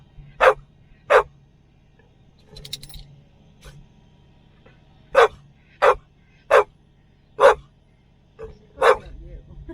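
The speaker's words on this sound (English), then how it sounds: "She's barking at Mackie girl" A dog barks in short, sharp bursts at another dog, two quick barks, a pause, then a run of five evenly spaced barks, fairly close over a quiet low hum at a truck stop.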